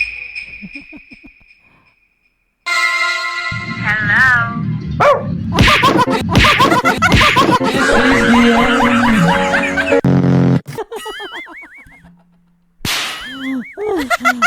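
A neighbour's dog barks in a few sharp, close bursts, mixed in with busy, choppy sound and bits of talk between the barks.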